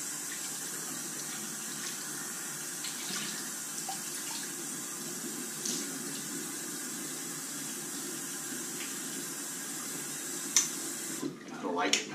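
Cold water running from a bathroom tap into a sink during a straight razor shave, a steady hiss of flow throughout, with a brief clatter and change near the end.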